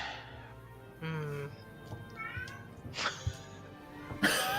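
A pet cat meows several times indoors, its short, tonal cries coming fairly close between people's quiet talk and a cough or throat sound.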